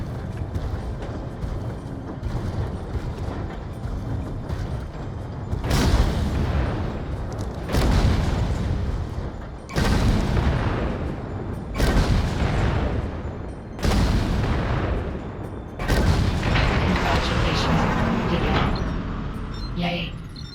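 Heavy cannon fire from a walking mech in the VR game Vox Machinae: a run of loud, booming blasts at a regular interval of roughly two seconds, each a sharp broadband crack that decays into a rumble over a low mechanical drone.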